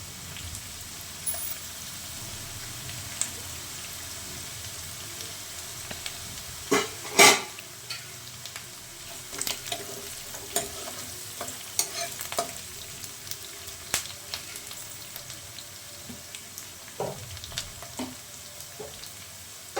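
Curry leaves and onion sizzle in a pan for a green bean stir-fry, a soft steady fry noise broken by clinking, scraping stirs with a spatula, one sharp clatter and several quieter knocks.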